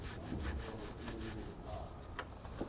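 A soft nylon-bristle brush scrubs grime from a car's undercarriage around the shock and spring, giving rapid, raspy back-and-forth strokes up close, loud and continuous with a few sharper scrapes near the end.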